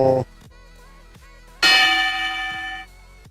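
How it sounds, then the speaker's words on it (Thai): A boxing ring bell signals the start of a round with a bright metallic clang that rings out loud and decays slowly over about a second, preceded by a brief tonal sound. "ยกที่สาม ทันทีที่ระฆังดัง"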